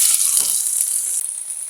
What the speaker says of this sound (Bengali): পাশের চুলায় আমি আদা রসুন পেস্ট দিয়ে ফেলেছি